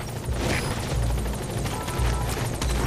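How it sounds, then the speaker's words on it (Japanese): Support helicopter arriving in Metal Gear Solid V: The Phantom Pain, a loud steady rotor roar with rhythmic blade chopping, heard alone throughout. "サポートヘリコプター has arrived."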